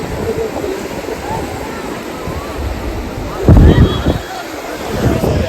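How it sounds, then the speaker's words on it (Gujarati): Gusty wind buffets the microphone over a continuous roar of surf at Baga Beach, Goa, with a louder blast of wind midway. "ઠંડો ઠંડો પવન આવે છે અત્યારે બીચમાં"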